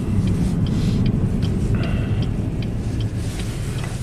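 A Chevy HHR SS Turbo on a road trip in Kentucky, running in reduced-power mode with a stability-system fault, gives a steady, loud low engine and road rumble from inside the cabin with faint ticking above it and no talk.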